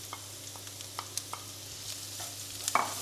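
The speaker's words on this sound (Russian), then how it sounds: "Теперь мы добавляем сюда чеснок." Garlic hits golden fried onions in a pan, giving a light sizzle with scattered stirring scrapes and a louder clatter near the end, close by with no talking.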